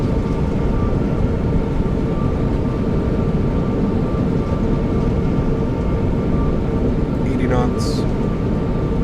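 A Boeing 787-9 decelerates on the runway after landing under thrust reversers in Microsoft Flight Simulator, heard as a loud, steady broadband engine roar that holds for about nine seconds, with a brief rising tone near the end and a voice talking over it.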